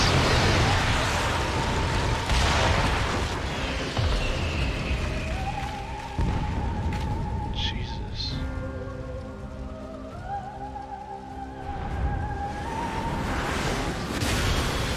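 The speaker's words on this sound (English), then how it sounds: "Computer does not like explosions." Booming explosions in a space combat video game, a continuous roar with rumbling blasts over rain-like crackle and shifting synth tones, loud and dense throughout.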